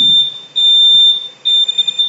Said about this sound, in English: Building-wide fire alarm.